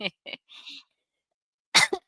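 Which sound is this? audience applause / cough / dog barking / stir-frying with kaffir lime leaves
cough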